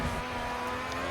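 An Indycar engine in the Grid 2 racing game, played on a wireless wheel, drones steadily at high revs, a continuous loud racing whine heard from close and alone for about a second.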